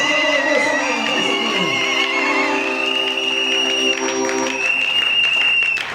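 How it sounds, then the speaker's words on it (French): A church congregation claps and cheers loudly for a pastor for several seconds, with a sustained tonal sound running over the crowd noise. "Vous acclamez très fort pour lui."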